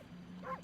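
A single short bark from a wolf character in a video game, one quick yip rising over a low steady game hum.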